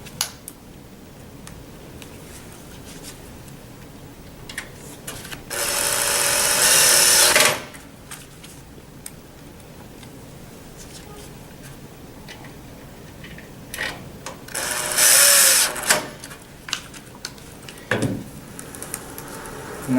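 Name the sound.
driving screws back into head frame plate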